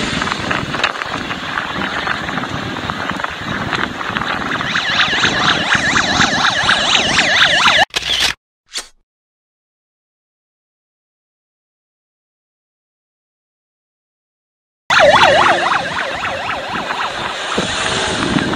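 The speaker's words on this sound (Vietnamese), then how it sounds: "sau lưng mình đó là một chiếc xe cứu thương đang hỗ trợ cho xe cứu thương vượt đoàn" An ambulance siren wails continuously and loudly close by as it passes a convoy of vehicles on the road. It is abruptly cut by several seconds of dead silence, then resumes at full strength.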